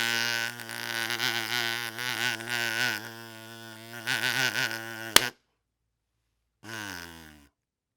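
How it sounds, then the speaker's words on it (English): A kazoo buzzes in a nasal, bug-like hum, played close in wavering phrases for about five seconds, then cut off abruptly, with one more short buzzing note after a pause. "It's called a kazoo."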